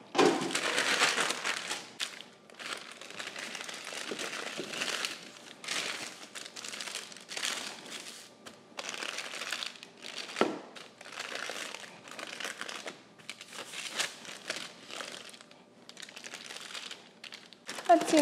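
Parchment paper crinkles and crumples steadily while a rolling pin flattens a sheet of homemade Christmas candy between paper layers, close up, with rustling bursts and brief pauses throughout.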